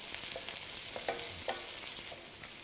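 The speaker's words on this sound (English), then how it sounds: "That's what I like to hear, sizzle." Steady, close sizzling of onions frying in hot oil for chow mein, with soft scraping stirs breaking in every half second or so.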